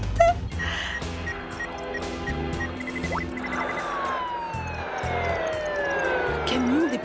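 A fire truck siren wails with rising and falling tones amid a busy, dramatic action-show soundtrack of music and effects, with talking over it.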